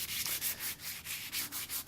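Hand sanding of a wooden crosscut saw handle with 220 grit sandpaper: long, steady back-and-forth strokes, about eight in under two seconds, close and moderately loud with no talking.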